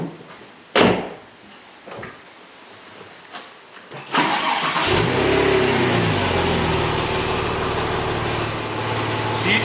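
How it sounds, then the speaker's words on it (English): A few clicks and thumps, then a Porsche 911 Turbo engine starts with a sharp burst after an oil change and settles into a steady, loud running rumble. "now it's just time to turn on the car and make sure everything's just running smoothly"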